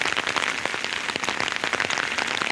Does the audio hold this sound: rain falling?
yes